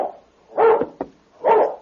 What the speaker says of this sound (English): Then a dog raced from between two buildings and startled the horse.